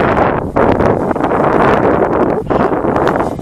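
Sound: wind hitting a Walkera Runner 250 drone in flight

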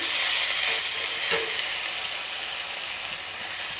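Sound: tempering chickpeas with curry leaves in hot oil, sizzling

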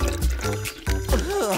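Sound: water poured from a plastic bottle

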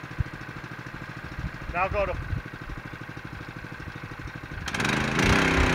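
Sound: Keene firefighting pump engine running and warming up

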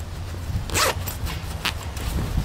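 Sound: zipper of a combat shirt shoulder pocket

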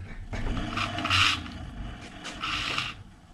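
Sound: bicycle wheel rubbing while being adjusted

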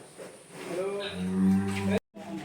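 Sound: Brahman cattle calf mooing

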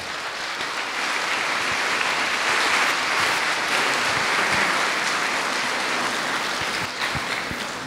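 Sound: audience applause welcoming a guest to the stage

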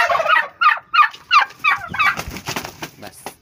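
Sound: turkey gobbling

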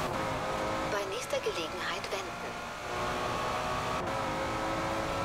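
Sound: Aston Martin Vantage engine revving in video game Forza Horizon 4

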